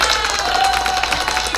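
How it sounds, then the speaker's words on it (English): Applause from an office staff and community audience, a steady wash of many hands clapping at a constant level throughout, dense and moderately loud with no voices standing out. "I hope you were able to hear the"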